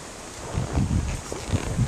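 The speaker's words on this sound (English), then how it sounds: "Just kind of windy." Gusty wind buffeting an outdoor microphone on a ride through recently burned woodland, low rumbling bursts rising and falling in uneven waves, fairly loud and close.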